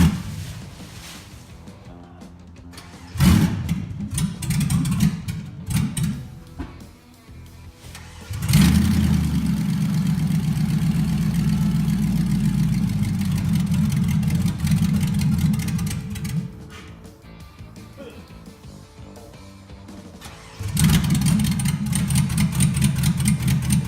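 The LS-swapped 1990 Toyota Land Cruiser FJ runs steadily nearby, its engine rumbling as it revs up at several points, holding at idle in between, then pulling away under power.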